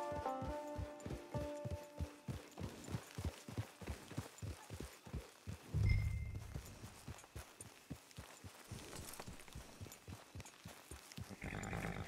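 A horse in Red Dead Online walks at a steady clip-clop, hooves striking in an even rhythm close by, with a brief heavier thud partway through and quiet ambience around it.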